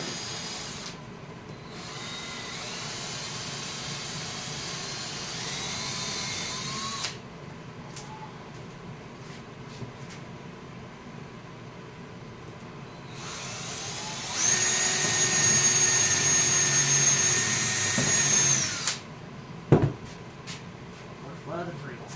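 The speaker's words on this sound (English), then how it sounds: "let me get my drill, get some holes started in this thing." A power drill whirs in two bursts, pre-drilling holes in hardwood for workbench storage drawers, the second burst louder and higher, with quiet workshop noise and a sharp knock between them.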